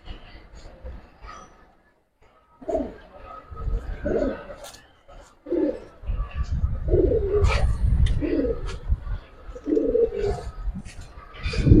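Pigeons coo in soft, repeated throaty phrases close by, mixed with rustling and wing shuffles, while someone talks over them at intervals.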